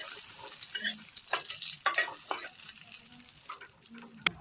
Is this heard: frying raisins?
yes